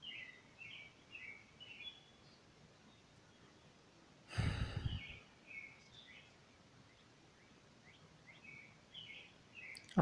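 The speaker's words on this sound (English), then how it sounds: "listening to birds" Faint bird chirps and short songs repeat throughout a quiet dawn outdoors at almost five in the morning, with a brief rustling breath-like noise in the middle and a soft hiss underneath.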